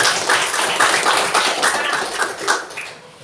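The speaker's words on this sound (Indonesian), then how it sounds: "Tepuk tangan untuk Irfan." A class of students claps for a classmate, a brisk crowd of overlapping hand claps that holds steady for a few seconds and then fades out.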